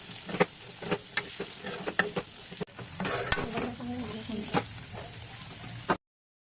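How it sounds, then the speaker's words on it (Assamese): Chicken frying in a pan with onion and paste, a constant soft sizzle broken by repeated sharp scrapes and clinks of stirring, heard up close and fairly quiet. "চিকেন ভাজি আছে"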